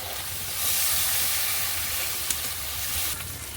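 Spices with turmeric powder frying in hot oil while a masala is cooked down for a koi fish curry, giving a steady close hiss and sizzle throughout with no voices.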